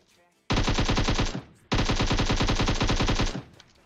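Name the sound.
gunfire in video game PUBG Mobile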